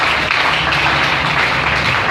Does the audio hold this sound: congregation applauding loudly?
yes